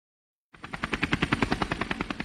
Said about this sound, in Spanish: el más completo y avanzado servicio de ambulancia aérea en helicóptero en nuestro país